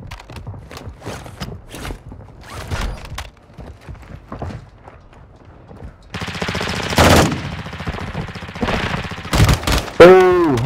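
Gunshots from Call of Duty on PS5 start as sparse pops, then turn into loud rapid automatic bursts and single cracks in the second half, with a brief rising game tone at the end.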